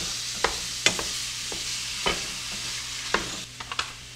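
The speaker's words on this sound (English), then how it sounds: "start breaking up my meat." A meat masher breaks up ground beef frying in a pan, with an even sizzle broken by sharp scraping and tapping strikes against the pan about every half second, close and clear.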